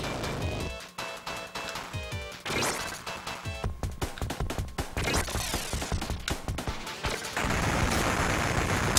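Flamethrower weapon firing in the run-and-gun game Contra Hard Corps, loud bursts of roaring fire mixed with rapid crashing impacts and explosive game effects, continuous and dense with no talking.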